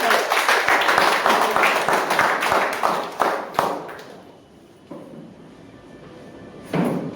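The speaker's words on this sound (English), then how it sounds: "So, with a round of applause, please call Toastmaster Rohit for giving his speech." Clapping from a small crowd at a Toastmasters club meeting, several seconds of scattered hand claps that fade away, followed by a quieter room and a short burst of sound near the end.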